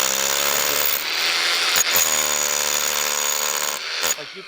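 A power drill with its bit grinding and shaping concrete, a loud harsh whine that runs almost continuously with a couple of short breaks, close up.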